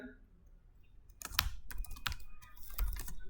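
Keys clatter in quick bursts on a computer keyboard as code is typed, close and fairly quiet, with brief pauses between clusters of strokes.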